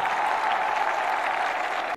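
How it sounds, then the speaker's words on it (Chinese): An arena audience at a Wulin cage fight event applauds a fighter, a dense, loud wash of clapping that holds steady for about two seconds before cutting off abruptly. "让我们掌声送给来自中国的邹金波。"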